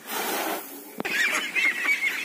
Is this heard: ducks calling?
yes